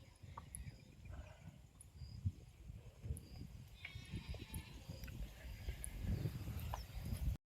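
Goats being fed fodder on a farm, with faint intermittent bleats and shuffling and chewing noises close by, under light drizzle and scattered outdoor clatter.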